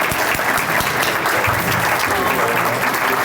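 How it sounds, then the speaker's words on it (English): Audience at a high school distinguished alumni awards ceremony gives a loud, sustained round of applause, dense clapping from a full room with some voices mixed beneath. "Let's give them a round of applause"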